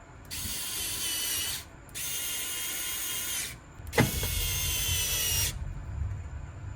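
A powered driver spins screws into an astromech droid's battery module in three steady whirring bursts, with short pauses between them and a light clack of handling near the end. The whir is close and moderately quiet, with no talking.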